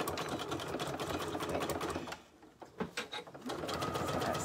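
A sewing machine stitches cork and waxed canvas for a bag's outside pocket, a fast close mechanical chatter that pauses briefly midway before resuming.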